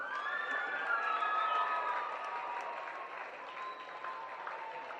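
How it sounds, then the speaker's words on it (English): A crowd at a women's rugby league grand final applauds the runners-up, the Camden Rams, with steady, sustained clapping throughout, mixed with faint cheers and a few high voices in the distance. "Can we please get a round of applause for our runners-up today"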